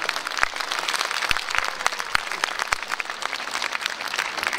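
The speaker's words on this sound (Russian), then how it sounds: "Под ваши аплодисменты." Audience applause greets a performer at a New Year concert, a steady wash of many hands clapping with a few sharp individual claps standing out close by.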